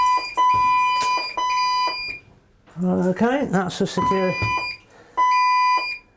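A building security alarm at Lincoln Cathedral sounds in loud, steady high beeping bursts that stop and restart, with people talking in the gap between them.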